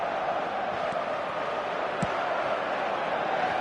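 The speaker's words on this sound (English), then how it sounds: "the crowd level has gone up a notch or 10" An eFootball stadium crowd roars at a goal with a continuous, fairly loud wash of cheering. One or two faint thumps rise above the noise.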